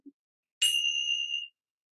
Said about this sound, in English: Listen, it's the smiling bells.